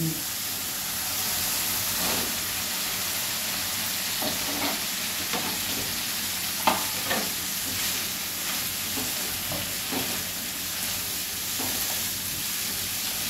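Ridge gourd tossed into a hot pan of oil and spices sizzles loudly while being stirred, with scraping utensil strokes and bursts of crackling spread over a continuous frying hiss.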